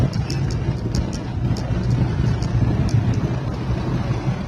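A car descends from the elevated Jakarta–Cikampek toll flyover near Bekasi Barat, giving a steady, continuous drone of road and engine noise with some wind rush, heard from inside the vehicle without talk.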